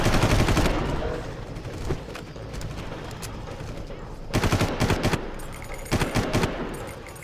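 Machine gun fire in the Far Cry video game, loud rapid automatic bursts aimed at the player, with a long opening volley and two shorter bursts later over steady game background noise.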